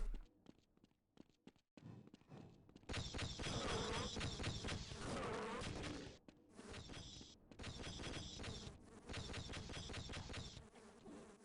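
Bees from the video game Half-Life buzz in loud, sustained swarming bursts close by, broken by short gaps and soft mechanical clicks, with no talking.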